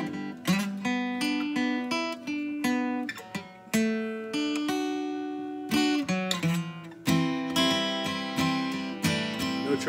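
An electric guitar plays a run of single notes moving up chromatically, each plucked note ringing clearly with a steady rhythm and no talk over it.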